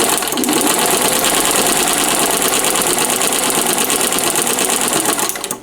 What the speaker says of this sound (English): come up here and continue to sew